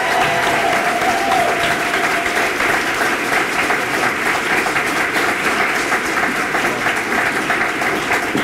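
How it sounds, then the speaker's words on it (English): Steady, full audience applause for a staff team at a state health department awards recognition, many hands clapping continuously at a moderate distance, a dense wash with faint voices underneath. "I want to make sure we give a round of applause for their incredible commitment"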